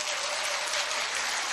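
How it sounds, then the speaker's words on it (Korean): An audience at a business presentation applauds in a short, dense, even burst of clapping with no voices. "박수 한번 주세요."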